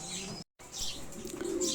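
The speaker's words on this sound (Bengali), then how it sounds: "সামনেরটা হচ্ছে একটা মেল কবুতর এবং পিছনেরটা ফিমেল কবুতর" Pet pigeons, a male and a female, give soft low coos close by, a short, quiet burst of cooing with faint chirps and a brief gap of silence.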